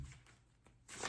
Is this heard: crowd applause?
no